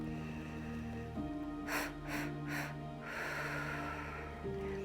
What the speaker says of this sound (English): take a deep breath in like this and then puff out 3 times and then blow